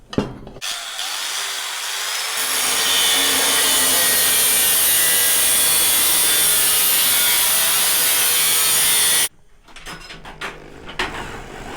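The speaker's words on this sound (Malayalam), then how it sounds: "ആദ്യം ഈ ഒരു പൊസിഷനിൽ വെച്ചിട്ട് നമ്മൾ കട്ട് ചെയ്യാണ്." A metal pipe for a stool being cut, giving a loud, steady, continuous grinding-saw rasp that runs for about nine seconds, then stops abruptly, leaving a few faint handling clatters.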